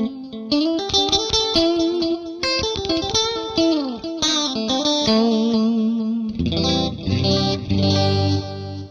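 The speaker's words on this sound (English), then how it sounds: "if I want vintage delay from the time factor" An electric guitar runs through the vintage delay setting of an Eventide H9 Harmonizer, playing a melodic line of notes with repeating echoes trailing each one, then shifting into thicker, sustained chords near the end.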